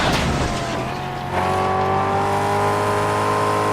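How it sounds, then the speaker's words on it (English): A car engine in Mad Max revs loud and close, rising to a steady high drone with whining harmonics after a brief dip. "This car's got one loud engine on it."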